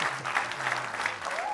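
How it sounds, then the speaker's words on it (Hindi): An audience at a poetry gathering applauding, a dense patter of many hands clapping at moderate distance, with a voice faintly audible beneath. "स्वागत कीजिए जोरदार तालियों के साथ"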